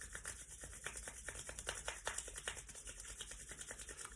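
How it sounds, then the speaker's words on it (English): Hands rub together briskly during a kids' yoga session, making a quiet, rhythmic swishing that repeats in quick strokes. The sound is faint and close, with no talk. "Now rub your hands together."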